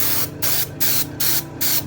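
An aerosol can sprays a plastic coating layer onto a mold in five evenly spaced hissing bursts, each about a quarter second long, loud and close, with short pauses between them.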